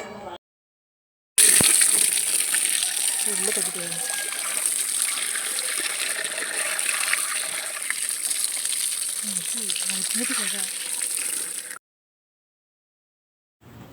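Tap water running steadily while fish are washed in a kitchen before frying, a continuous close splashing gush with small clinks and handling noises, stopping abruptly at the end.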